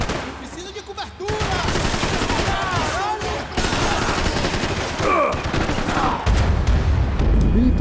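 Gunfire and explosions in the video game Max Payne 3, loud and continuous over the whole stretch, with shot bursts layered under in-game voices and a heavy low boom building toward the end.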